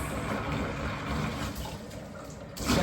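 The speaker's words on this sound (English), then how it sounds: "it takes about 10 minutes for the bath to run to the capacity that I like" A bathtub fills with running water for a bubble bath, a steady broadband gush from the tap rushing evenly throughout, close and unbroken, with no talking.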